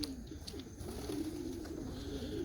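Young racing pigeons gathered at their home loft after a short training toss, giving soft repeated cooing, close and faint, over a steady low background hum, no voices.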